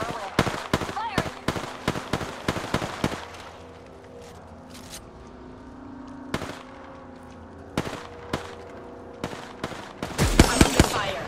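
Gunfire in the Apex Legends video game comes first as a rapid string of sharp shots, then as scattered single cracks after a quieter stretch. It ends in a loud, dense burst of fire.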